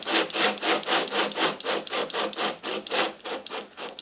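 A screw driven by hand into wood makes a rhythmic, rasping scrape, about a dozen even strokes close up, with no one talking.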